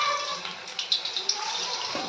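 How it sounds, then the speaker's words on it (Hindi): Spinach pakoras dropping into hot oil, a steady close hiss of frying with a few brief crackles and pops. "तो हमारा तेल अच्छा गर्म हो गया है, तो अब हम पकोड़ों को फ्राई करेंगे।"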